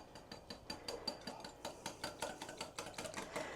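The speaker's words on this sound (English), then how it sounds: "We're going to add those in, and then we're just going to whisk them together." A whisk beats egg yolk into whole milk ricotta cheese in a quick, steady run of faint scraping taps for pancake batter, close and quiet with no talking.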